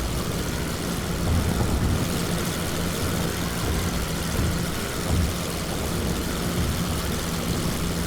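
A WWI-era propeller plane engine from the flight sim Wings Over Flanders Fields drones steadily, a broad, continuous rumble holding even loudness throughout with no talk over it.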